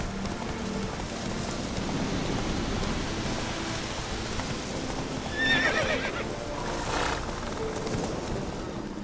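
Roach, a horse in The Witcher 3: Wild Hunt, neighs once midway over steady hoof clip-clops and falling rain, the whinny moderately loud against the patter.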